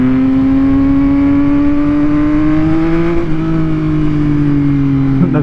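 A motorcycle engine revs loud and close, its pitch climbing steadily as it accelerates into a wheelie, then dipping slightly and holding, without any talking.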